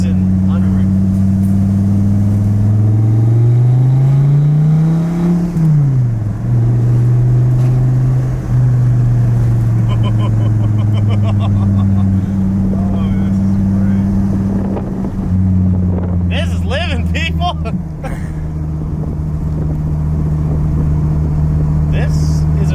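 A Dodge Viper ACR Extreme race car engine drones and revs loudly, its pitch sweeping up and down, with wind buffeting and some rattling and clatter in the later part.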